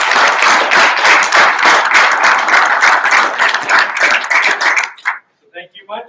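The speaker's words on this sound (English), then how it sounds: "let's give them a round of applause" Audience applause for conference panelists at a livestock handling conference, a dense, steady burst of many hands clapping that fades out after about five seconds, with a few faint scattered sounds trailing after.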